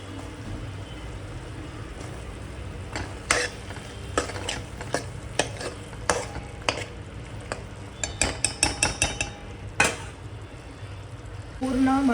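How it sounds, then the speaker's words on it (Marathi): Cauliflower and peas being stirred with masala in a pan, a utensil scraping and clinking against the metal in irregular bursts over a low steady sizzle, close and fairly quiet. "पूर्ण मसाला फ्लावर आणि वाटाण्यामध्ये 1 मिनिटात मिक्स केला आहे मी हलवून"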